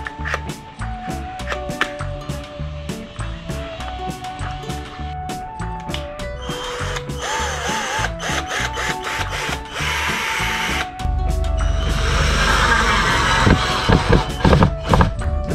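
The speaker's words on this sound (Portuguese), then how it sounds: "E agora nosso novo acessório, essa furadeira 3000, todo poderoso." A power drill whirs in sustained bursts inside a small motorhome, loud and close, with clunks and clattering between runs.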